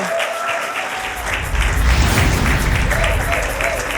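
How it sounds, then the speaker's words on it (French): Audience applause fills a hall after a mirror sequence at a French-speaking church event, a steady wash of clapping that swells louder partway through, with faint voices mixed in. "Est-ce qu'on peut applaudir pour cette séquence miroir?"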